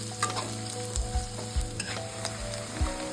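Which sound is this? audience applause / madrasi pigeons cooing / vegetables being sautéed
vegetables being sautéed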